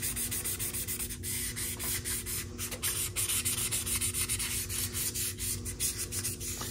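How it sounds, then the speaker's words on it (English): Steady, continuous scratchy rubbing of a 3000-grit sanding sponge over a model car body, close up, in short repeated strokes with no talking. "grab a 3000 grit sanding sponge and rough up the entire body"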